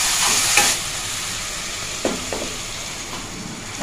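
Boiled peas go into ghugni masala frying in a pan, giving a steady sizzle with a few scraping stirs of a spatula, close and fairly quiet.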